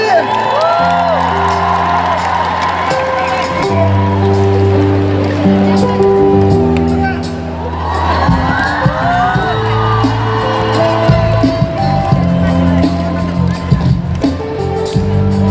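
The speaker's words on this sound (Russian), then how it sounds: "еще раз напоследок аплодисменты!" Applause and whoops from a large concert crowd at Tatneft Arena, loud and sustained, with music playing underneath and bursts of cheering rising and falling.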